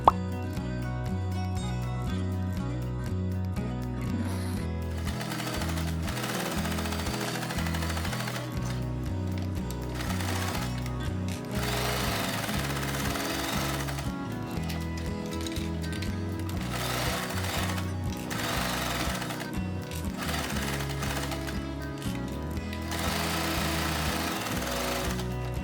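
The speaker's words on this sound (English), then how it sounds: "I'm gonna take this to sewing machine and sew this part." Sewing machine stitching a fabric face mask, a rapid mechanical rattling in steady bursts with short pauses and a brief stop near the start, close and loud with no talk.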